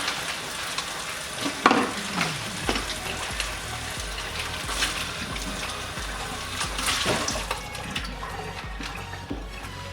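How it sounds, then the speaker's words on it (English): Water runs from a tap while a container is rinsed out, with a splashing, hissing wash, irregular clunks against the sink and a louder surge near the end. "I'm just gonna go ahead and rinse this out real quick"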